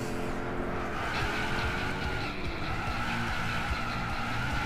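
Tires skid under locked brakes on a Lancer Evolution in a Gran Turismo 6 race, a loud, continuous screech over steady engine roar and road rumble that holds for several seconds with no talk.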